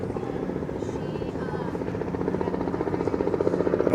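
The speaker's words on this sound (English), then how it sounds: "There's somebody on that helicopter tour." A tour helicopter flies near a cruise ship port, its rotor chop steady and growing louder and more pulsing as it approaches, with faint voices underneath.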